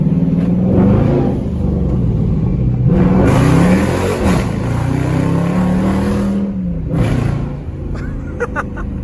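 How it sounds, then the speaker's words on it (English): A 2019 Dodge Charger engine revs hard and loud during 0-60 pulls, pitch climbing and dropping through repeated acceleration, with a throaty roar that eases off near the end. "I don't know if you guys can hear in the camera, but the car is screaming."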